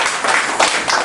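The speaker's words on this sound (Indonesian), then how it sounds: "Tepuk tangan sekali lagi buat Tuhan Yesus." A church congregation claps and applauds during a worship service, a dense, steady wash of many hands with small swells, loud and close.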